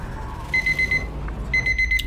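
Timer alarm in the No Man's Sky video game on PC, two bursts of rapid high electronic beeping pulses, each lasting about half a second, loud and close over a low droning game background.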